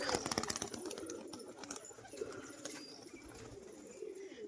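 A pair of blue Naptha pigeons, one male and one female, coo softly at close range amid a busy background of clatter and rustling.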